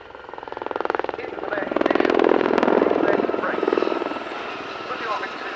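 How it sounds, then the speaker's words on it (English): Helicopter rotor chop builds and holds steady, a loud, pulsing whir of a four-ship Gazelle helicopter display team passing fairly close at RAF Cosford Air Show 2024, with a faint voice underneath. "The 4-ship Gazelle Squadron display is a thoroughly unique asset on the British airshow circuit"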